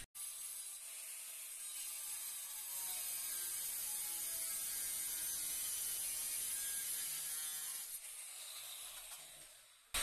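Porcelain tile being cut with a power tool, a steady high grinding hiss that holds for about eight seconds before easing off, close and continuous with no talk.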